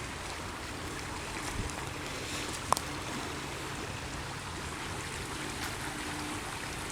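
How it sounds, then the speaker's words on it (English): Steady rushing water fills the scene, a broad continuous hiss like a stream or surf, with one brief click partway through. "Can you hear that water rushing?"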